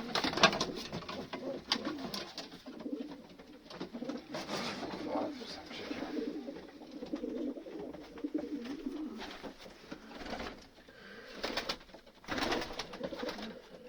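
Breeding pigeons coo steadily in soft, throaty rolling phrases, overlapping one another nearby in a loft, with occasional faint rustles and flutters in the background.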